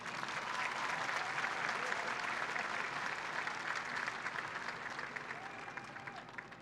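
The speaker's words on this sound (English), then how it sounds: "Let's give her another round of applause." Steady applause from a large audience at a 2021 high school graduation ceremony, a dense continuous wash of clapping that holds for several seconds and fades slightly toward the end.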